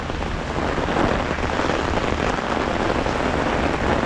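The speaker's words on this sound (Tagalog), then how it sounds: "Ang lakas ng ulan." Heavy rain pours steadily in Canada, a loud dense hiss of drops hitting surfaces up close, with wind mixed in and no pauses.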